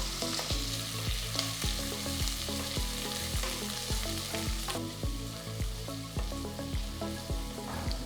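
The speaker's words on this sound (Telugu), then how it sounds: "వీటిని రంగు మారేంత వరకు వేయించాలి" Long-sliced onions with bay leaves and whole spices fry in a pan for methi pulao, giving a steady, close sizzle throughout with rhythmic background music.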